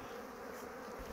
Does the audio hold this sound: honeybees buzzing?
yes